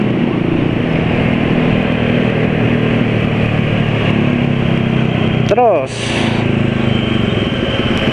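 A motorcycle fitted with an aftermarket racing exhaust runs with a steady, loud, rumbling drone throughout, with a brief sweeping rev-like swell near the end while someone talks over it.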